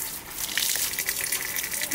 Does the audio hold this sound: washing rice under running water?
yes